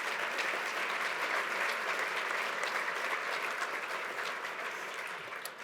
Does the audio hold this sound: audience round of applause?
yes